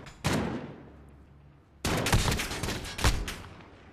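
Gunfire in the Call of Duty Modern Warfare video game: a sharp shot near the start, then a second burst of loud shots after a pause, with sharp cracks standing out, and no talk.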